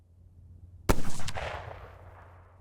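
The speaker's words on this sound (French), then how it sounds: "ôte le safety, puis tire quand t'es prêt" A single sharp rifle shot fired at a target outdoors, close and loud, with a quick booming echo that decays over about a second before quiet returns.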